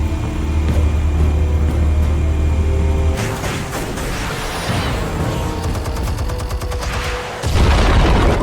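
Explosives go off in a Batman: The Telltale Series scene: a loud low rumble gives way to a burst of sharp cracks and debris, then a heavy boom rolls in near the end.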